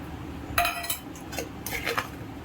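Dry salt and mustard powder being mixed for Andhra avakaya mango pickle, with a few clinks and scrapes of a utensil against a vessel in two short bursts, close and fairly quiet.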